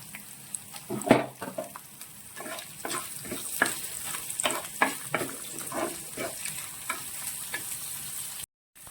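Asafoetida hits hot oil for a lemon pickle, giving a gentle sizzle with a rapid series of light stirring taps and scrapes close by before a sudden cut to silence near the end.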